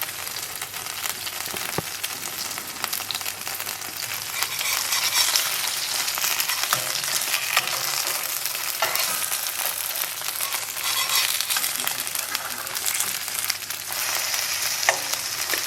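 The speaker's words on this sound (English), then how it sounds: "we'll go ahead and fry this on the other side until it's browned" Lithuanian zucchini potato pancakes fry in a pan with a steady, close sizzle and crackle that holds without a break, with no voices.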